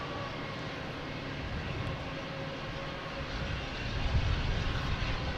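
An Aer Lingus airliner at Boston Logan Airport gives off a steady, broad engine roar that swells slightly toward the end, with no voices over it.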